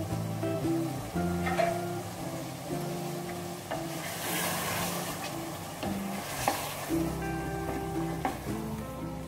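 Yogurt stirred into a cooking pan, sizzling and frying with a steady hiss and scraping stirs, close and continuous without speech.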